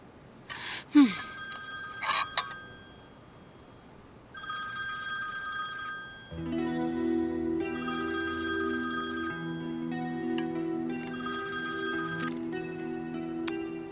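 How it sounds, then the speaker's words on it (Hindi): A telephone rings in repeated bursts of bright trilling bell tone at a steady rhythm, while a sustained low tonal drone comes in partway through and continues beneath the rings. "तुम इसका फोन उठा क्यों नहीं रहे हो?"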